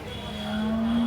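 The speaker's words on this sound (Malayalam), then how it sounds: "ആന്ധ്ര കൂറ്റൻ കാളകളാണ് ഇതൊക്കെ." A large Andhra bull lows once at a cattle market, a single long, fairly close moo that swells slightly louder toward its end.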